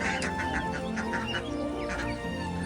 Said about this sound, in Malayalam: നമ്മുടെ തനി നാടൻ കോഴി കുഞ്ഞുങ്ങളും കുട്ടനാടൻ കുഞ്ഞുങ്ങളും നല്ല പുള്ളിക്കോഴികളും